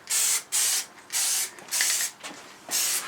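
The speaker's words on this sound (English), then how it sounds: "you're spraying rubber on there." Five short bursts of hissing spray from an aerosol can of liquid rubber paint onto a motorcycle sump guard, each about half a second long and separated by brief pauses, close and loud.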